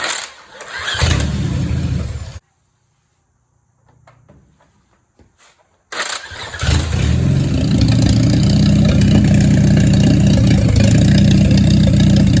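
A 1946 Jeep CJ2A engine runs roughly at first and then cuts out for a few seconds of near silence. It restarts and runs steadily and loudly to the end.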